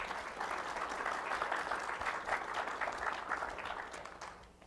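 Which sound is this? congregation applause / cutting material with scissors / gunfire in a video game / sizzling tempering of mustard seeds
congregation applause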